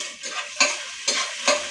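Onion and garlic sizzle steadily in a hot pan, with three sharp scraping stir strokes cutting through the frying hiss at regular intervals; no voices.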